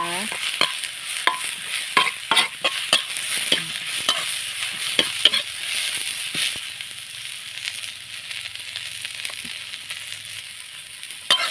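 Pork stir-frying with sliced vegetables in a pan at home, a steady close sizzle broken by repeated scraping and clanking stirs of the spatula throughout, with no talking.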